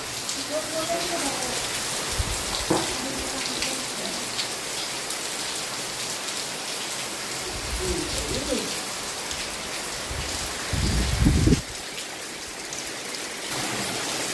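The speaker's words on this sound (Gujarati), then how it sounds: "વાહ, થઈ ગયો ચાલુ જો વરસાદ" Heavy morning downpour in a village, a steady dense roar of rain on surfaces throughout, with a few birds calling faintly and brief low voices or thumps in the background.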